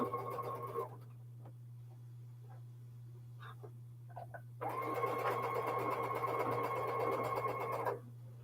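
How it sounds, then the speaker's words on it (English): A sewing machine stitching small fabric scraps together, running in two steady whirring bursts separated by a pause with a few faint clicks, under a constant low electrical hum. "I'm sewing these small scraps together anyway because they're here"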